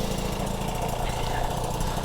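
A restored 1977 Peugeot 103 moped engine idles while warming up, a close, steady buzzing putter with a fast, even rhythm.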